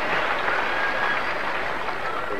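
A large tennis crowd at Roland Garros during the 1993 final applauding, a steady, dense wash of clapping that holds evenly throughout at a moderate distance.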